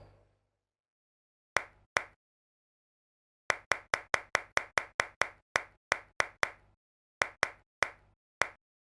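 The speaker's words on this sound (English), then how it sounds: "and then just narrow it down to this one clap." A single recorded hand-clap sample played repeatedly from a MIDI clip in music production software, crisp, close and dry, each hit decaying quickly, fired in irregular bursts separated by silence.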